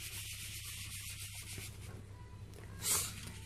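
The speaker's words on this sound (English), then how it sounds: "take a sponge and scrub it off" A sponge scrubs toothpaste off a surface with a continuous soft, close rubbing hiss of steady strokes, ending in a brief brighter swipe, with no talk.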